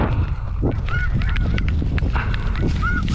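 Snow geese honk in a field during a hunt, several nasal calls scattered over a steady rumbling background, fairly close and loud.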